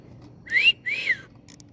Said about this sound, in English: Where are you whistling at?